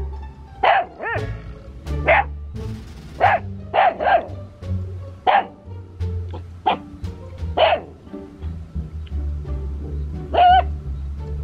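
A dog barks repeatedly in short, sharp bursts at close range during a rural golden apple snail gathering trip, with pauses between barks and a low rumble underneath.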